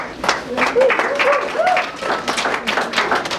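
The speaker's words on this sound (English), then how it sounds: "let's give them a big round of applause." An audience at a sportsmanship skit in a singles championship setting claps in a moderate, uneven burst, with some voices calling out under the applause.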